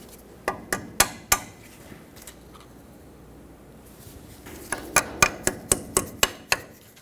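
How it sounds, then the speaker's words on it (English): Cutters grip and work a stuck cotter pin on the front ball joint of a 2011-2016 Ford F-350, making two bursts of sharp metallic clicks and taps separated by a quiet pause, close and with no talk. "I'm using some cutters to straighten it out and hopefully pull it through."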